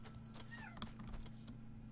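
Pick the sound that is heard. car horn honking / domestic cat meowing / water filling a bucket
domestic cat meowing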